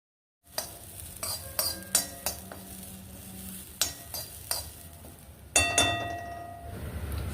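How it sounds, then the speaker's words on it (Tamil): Grated coconut is roasted in ghee in a pan, with a faint low sizzle under repeated metallic scrapes and clinks of a spoon stirring, close and fairly quiet after a silent start. "சும்மா ஒரு நிமிஷம் அந்த தேங்காய் வாசனை வர அளவுக்கு வறுத்தாப்போம்"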